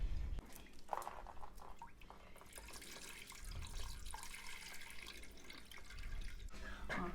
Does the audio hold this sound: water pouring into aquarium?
yes